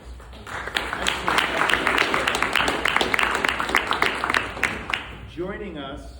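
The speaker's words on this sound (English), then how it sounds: "give yourselves a round of applause" People at a community police safety meeting give a round of applause, a steady, moderately loud stretch of clapping that fades before a voice starts speaking at the end.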